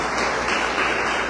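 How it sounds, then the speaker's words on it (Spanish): A church congregation breaks into loud, steady applause during a sermon, with continuous dense clapping throughout the short moment. "Demos un fuerte aplauso para el Señor."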